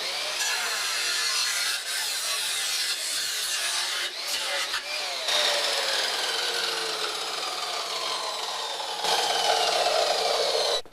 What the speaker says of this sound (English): Smooth it out with the flap wheel.